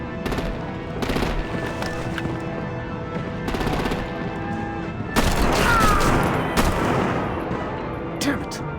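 Artillery and gunfire in a Batman video game: sustained rattling bursts of automatic fire mixed with heavier booming blasts, loud and close, intensifying in the latter half with scattered sharp reports.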